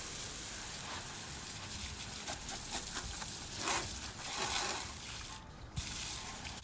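A pressure washer wand rinses the spoked wheels of a 2019 Subaru WRX, giving a steady, close hiss of spraying water with small surges and splashes throughout.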